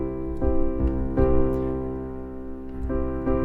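Roland FP-10 digital piano with the Piano Designer lid setting closed plays a few chords and notes, each strike ringing and sustaining, close and moderately loud, no speech.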